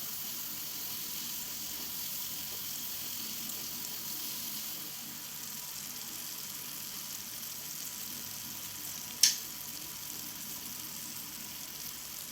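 Spices fry softly in oil, giving a quiet, steady sizzle throughout. A single sharp click stands out near the end, and no one speaks.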